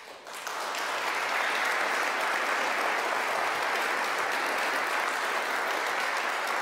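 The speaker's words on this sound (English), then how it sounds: "In that case, round of applause." Sustained applause from a conference audience after a talk on crypto parties, steady and dense throughout after a quick swell at the start, with no speech.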